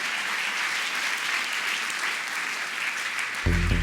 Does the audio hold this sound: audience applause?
yes